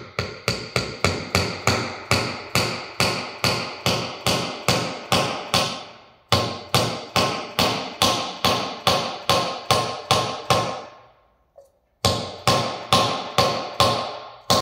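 A hammer drives a bearing into an Empi disc brake for a classic air-cooled VW Beetle conversion, giving dozens of sharp metallic blows in a steady fast rhythm, broken by two brief pauses.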